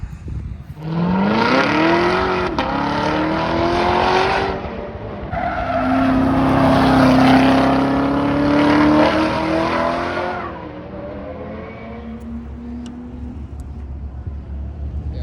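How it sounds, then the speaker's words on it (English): A car lapping a small speedway circle track in a timed run, an engine revving and droning steadily close up with rising and falling pitch and tire squeal, continuous throughout and easing slightly toward the end. "we are going to go drive around in a circle for 3 laps, just like a time attack, but on this little speedway"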